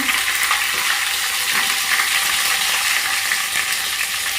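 Chopped chilies and onions sizzle loudly in hot oil with whole spices, clove and cardamom, in a pan as they are stirred, a dense, steady, close frying hiss with faint scraping and no talk.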